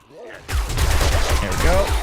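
Rapid SMG gunfire from the video game 7 Days to Die, a loud sustained burst of shots packed close together that starts abruptly and runs without a break to the end.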